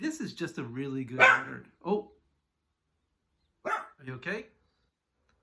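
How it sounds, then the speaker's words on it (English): A pet dog barks a few times indoors, mixed in with someone talking, then a pause and more brief speech. "He's just barking."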